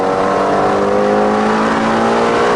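Shelby GT350R engine pulling hard on the throttle around the Road America circuit, a loud steady rising howl with bright stacked harmonics climbing together, heard from inside the car without talk.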